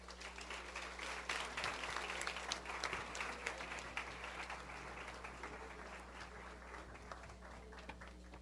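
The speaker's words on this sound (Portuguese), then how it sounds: "Vamos receber com um aplauso de boas-vindas?" Warm welcoming applause from a sizable lecture audience, dense clapping heard from a distance over a steady low hum, continuing without pause.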